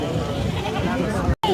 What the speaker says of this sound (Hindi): बहुत खूबसूरत बकरी है